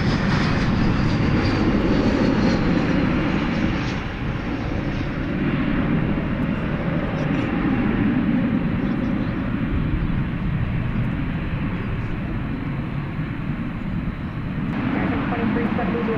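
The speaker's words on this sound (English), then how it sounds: "That arrival, flight 1646 and Airbus A321" An Airbus A321 arriving at DFW Airport at night, a loud continuous jet engine roar that holds steady and then shifts near the end, with people talking over it.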